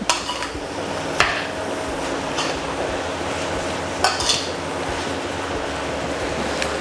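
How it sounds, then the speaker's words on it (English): Fresh egg noodles stirred in a pan while making Chinese takeaway-style food at home, with a steady sizzling hiss and a few sharp utensil clinks and scrapes against the pan. "I've got some egg noodles, just some fresh egg noodles, and mix that in"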